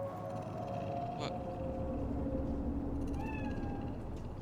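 A cat in the video game Cyberpunk 2077 gives a couple of drawn-out meows, faint against a steady ambient hum, with no talk over it.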